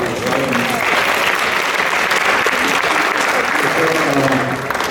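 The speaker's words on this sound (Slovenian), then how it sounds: "še en aplavz za vse, ki so razvajali" Loud, dense applause from an audience at a gathering, steady clapping sustained for about five seconds with a faint murmur of voices beneath.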